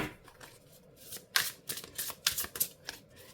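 A deck of Arthurian tarot cards with a slick, smooth finish is shuffled by hand, giving close, crisp riffling flicks and slides in uneven bursts, with no talking.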